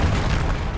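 The Confringo spell blast in Hogwarts Legacy: a loud, heavy booming burst with a deep low rumble that sustains briefly without pause.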